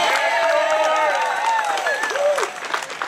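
Rally crowd gives sustained applause for Representative George Cross at an anti-F-35 gathering, dense clapping with some cheering and a few voices over it, tapering slightly near the end.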